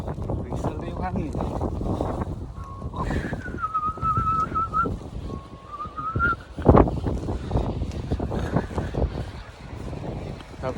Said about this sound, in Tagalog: Whistle na yung hangin.